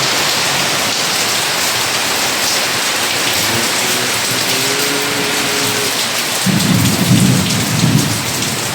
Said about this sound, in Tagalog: Ito yung ulan.